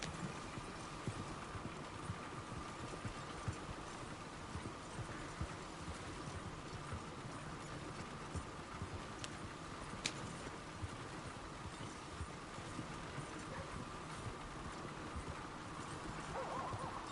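Horse hooves clip-clopping steadily along a road in Red Dead Redemption 2, a faint continuous rhythmic trot over a soft rushing background, with no talking.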